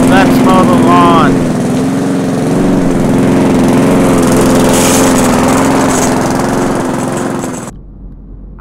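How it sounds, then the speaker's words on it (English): A lawn mower engine drones loudly and steadily for about seven and a half seconds, heard while mowing a lawn in a marriage simulator video game, then cuts off abruptly into near silence. "Let's mow the lawn!"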